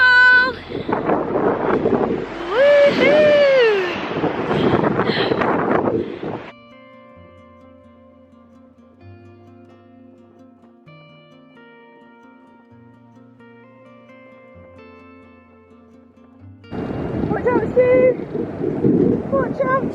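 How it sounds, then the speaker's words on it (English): Strong wind buffets the microphone on beach dunes, roaring in loud gusts at the start and end with a calmer stretch between, while people shout and talk over it. "It's still super duper windy, but it's beautiful!"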